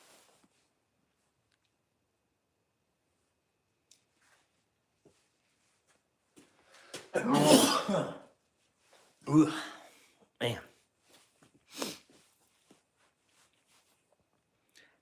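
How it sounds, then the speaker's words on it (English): A single person sneezes loudly, then follows with a couple of shorter sniffs and exhalations in an otherwise quiet outdoor setting. "Hate that when you gotta sneeze."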